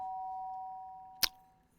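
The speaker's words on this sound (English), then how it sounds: "The sharp sound of the doorbell pierced my sleepy haze and pulled me back to the real world." A doorbell chime from the video game Danganronpa rings once, a single sharp near strike over a steady electronic hum, then fades quickly.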